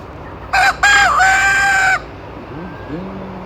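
A rooster crows loudly and close by, one long strained call after a brief opening note, followed by quieter background sounds.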